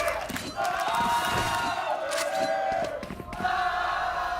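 A large esports arena crowd at a VCT Americas Valorant grand final between LOUD and NRG, roaring and chanting in rising, rhythmic waves that fill the space continuously.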